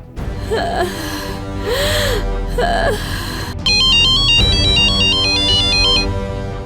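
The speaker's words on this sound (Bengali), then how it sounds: "আমি কল করছি, আমি বিনিতাকে ফোন করছি মা।" A mobile phone on an outgoing call, with a short melodic sequence of tones followed by a loud, repeating electronic ringtone pattern close by, alone without talk.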